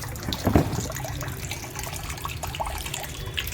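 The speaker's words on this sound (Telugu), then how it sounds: "ఇంకా వర్షం వస్తూనే ఉంది" Rainwater running off a rooftop penthouse pours and splashes steadily into a collecting container, with occasional drips and a brief louder splash early on.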